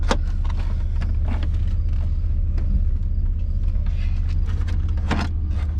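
A 2000 Chevy Blazer SUV idles and creeps backward in reverse with a trailer hitched behind, its steady low engine rumble running close and continuous with a few faint clicks and knocks over it.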